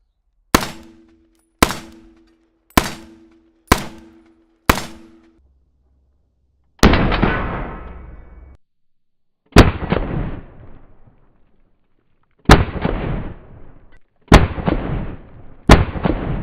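M1 Garand rifle fired outdoors: five sharp, evenly spaced close shots with ringing tails, then a metallic clang, followed by four louder single shots with long decaying echoes, spaced a few seconds apart.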